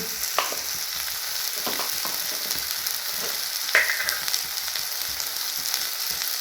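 Dry spices and turmeric sizzling in cooked-down masala for chicken do pyaza, a continuous close frying hiss broken by occasional scraping stirs of a spoon, with no talking.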